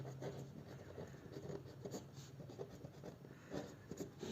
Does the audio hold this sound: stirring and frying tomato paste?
no